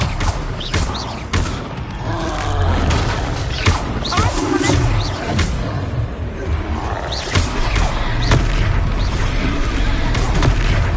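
Expelliarmus spell cast during a Hogwarts video game duel: loud magical booms, bursts and thuds, with sharp whooshing hits repeating over a busy, rumbling battle backdrop.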